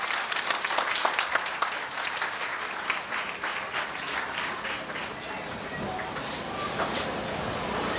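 Audience applause at the inauguration of a technical and vocational high school in Haiti, steady dense clapping throughout, moderately loud with a crowd murmur and a voice mixed in.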